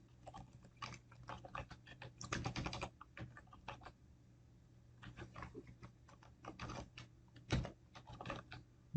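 Quiet, uneven clatter of keystrokes comes from a computer keyboard as code is typed, with irregular bursts and short pauses, close but faint against a low steady hum.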